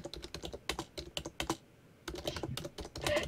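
Rapid clattering keystrokes on a computer keyboard during a Minecraft game session, close and fairly quiet, in quick bursts with a short pause midway before the typing resumes.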